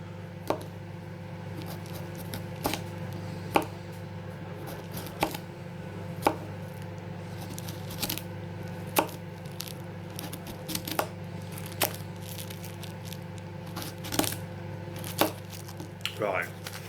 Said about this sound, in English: So we'll cut a few slices off.